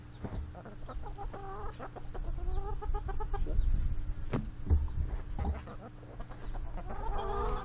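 Chickens clucking close by on a farm, a run of repeated clucks and short calls with low ambient noise underneath.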